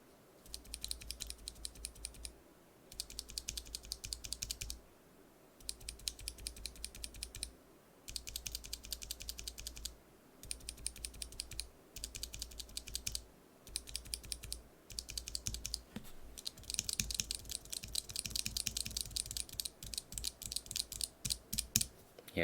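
Non-lubed stock NovelKeys Cream mechanical keyboard switches are pressed in steady bursts of rapid typing, crisp clacky keystrokes close up with short pauses between runs and no talking.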